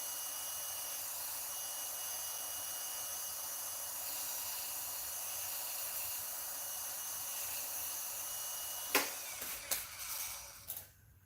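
A wood lathe spins steadily with a broad airy hiss as turned wood is burnished using a handful of its own wood chips, ending in a few sharp scraping knocks as the contact stops.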